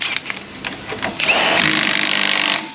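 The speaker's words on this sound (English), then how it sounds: "Okay, wrench coming in to hold the bolt." A tool works on a nut on a front strut bolt of a car, first scattered clicks and knocks, then a loud steady mechanical whir running for over a second close by before cutting off.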